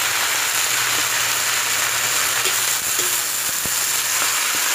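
Onion leaves added to a pan of sweet potato tops sautéing in oil give a steady, dense sizzle and crackle, close and loud, with a few faint clinks from a utensil, no talking.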